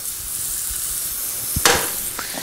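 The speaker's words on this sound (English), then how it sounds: "Melt a couple tablespoons of butter in a nice pre-warmed saute pan" Butter sizzles gently in a pre-warmed sauté pan for squash, a soft steady hiss with a couple of sharper spatters near the end and no one talking.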